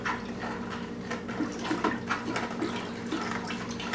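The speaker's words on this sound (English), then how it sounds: "with this hot water, I'm just going to stir it up a little while to try and help that dissolve." Sugar being stirred into hot water in a container, giving a steady watery swishing and sloshing with small clinks of the utensil throughout, close and fairly quiet.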